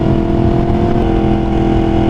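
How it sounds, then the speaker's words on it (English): A 193 hp motorcycle with a quick shifter, upshifting without the clutch while cruising, heard as a loud, close, continuous engine drone that holds steady with only a slight change in tone. "As you can see, I'm upshifting without the clutch."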